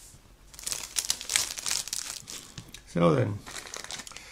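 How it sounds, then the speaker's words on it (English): Plastic bags holding parts of a Border Models Panzer IV J model kit crinkle and rustle up close in short bursts, with someone speaking briefly partway through. "got some pieces here on their own in plastic bags"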